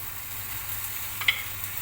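Boiled potatoes sautéed with turmeric in hot oil give a steady soft sizzle, with a single sharp clink of a utensil near the end.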